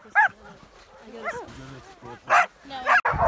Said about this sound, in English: Oh, the dogs are so excited!